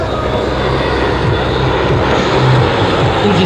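Jets of the Breitling Jet Team arrive overhead during a twilight airshow display at Abbotsford, a steady loud engine roar with a low rumble that swells slightly near the end.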